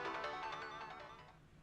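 A phone ringtone from the Steins;Gate 0 visual novel plays as a short melodic electronic jingle with rhythmic pulsing notes, fairly faint and fading toward the end, with no voices over it.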